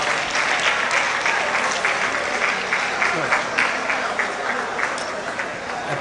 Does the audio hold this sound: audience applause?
yes